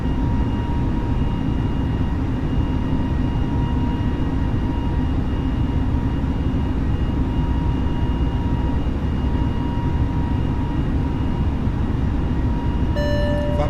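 Simulated A320 jet engines at climb power in Microsoft Flight Simulator, a steady droning rumble with faint constant whining tones, continuous and unchanging throughout.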